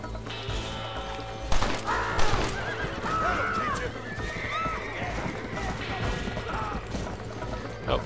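Horse in the Red Dead Redemption video game whinnying loudly, with clip-clop hoofbeats and mechanical clatter, several neighs over a busy game soundscape.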